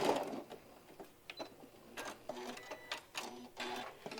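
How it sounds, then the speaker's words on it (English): Sewing machine stitching down one side of fabric held with clips, heard in several short bursts of rapid mechanical stitching separated by brief pauses, close and moderately loud. "So stitch this side down."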